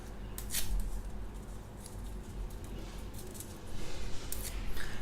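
A sheet of paper is torn in half, giving a few dry, crackling rips close by, with a louder tearing burst near the end.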